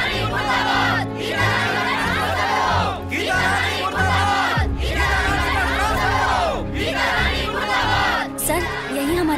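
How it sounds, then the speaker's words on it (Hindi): Crowd of people gathered outside a school, chattering and shouting. Loud overlapping voices with yells and calls rise and fall in waves across the whole stretch, close and dense. "देखिए भीड़ जमा हो गई मैडम,"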